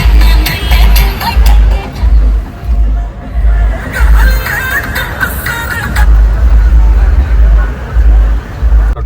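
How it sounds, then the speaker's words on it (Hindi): A heavy traffic jam on a road in Chittorgarh, Rajasthan, fills the air with loud engine rumble, bus and car noise, and crowd chatter in a dense, continuous wash. "तो ट्रैफिक तो बहुत खतरनाक जाम है"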